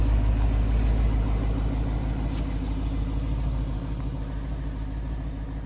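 A Jeep Wrangler's 392 V8, fitted with new Bilstein shocks and a front steering stabilizer, idles nearby with a deep, steady rumble throughout.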